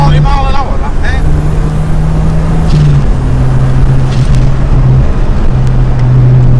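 A turbocharged Ford Ka cruises steadily at around 40 mph, its engine holding a constant low drone with road and wind noise throughout, while people talk over it inside the cabin.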